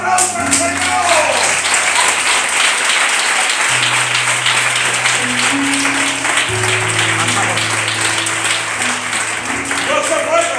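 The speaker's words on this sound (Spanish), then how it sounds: "¡Un aplauso al Señor!" A congregation at a Spanish-language church service claps loudly and steadily while a keyboard holds low chords beneath, with voices calling out amid the applause.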